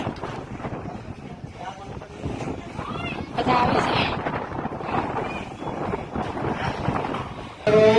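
Strong wind buffets the microphone in gusty roaring bursts at a Mahakali temple, with voices talking underneath and rising in places.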